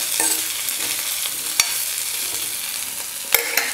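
Potatoes sautéing in hot oil, a steady close sizzle and fry with a couple of sharp spoon scrapes and knocks against the pan, no voices.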